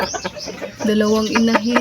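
Hens cluck and squawk nearby in short, uneven bursts, with a couple of drawn-out calls near the end.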